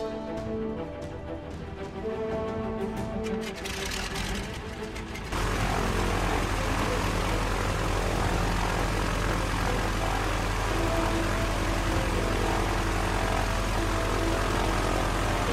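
A propeller aircraft engine in the video game Miss Clue: Cruise Most Deadly catches abruptly partway through, jumping from a quieter busy backdrop into a loud, steady, droning roar that holds to the end.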